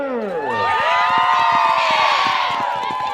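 Crowd at a high school ski jumping meet cheering and whooping with bright shouts and rhythmic clapping, loud and close, continuous over a few seconds.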